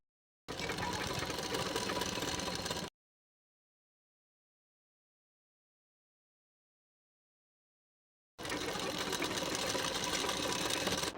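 Sewing machine stitching a saree petticoat, a dense continuous mechanical whir in two bursts of a few seconds each, separated by silence, loud and close with no talking.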